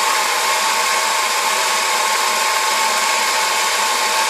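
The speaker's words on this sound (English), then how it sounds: "see if this flap, which should be working now that the supercharger's engaging" A Mercedes SLK Kompressor engine's supercharger whines steadily as it engages, a loud, continuous high-pitched drone holding level with no breaks and no voices.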